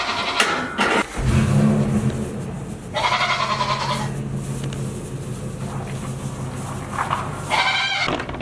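Sheep on a farm bleat in several loud, close calls spread across the stretch, with a low engine-like rumble running underneath between cries.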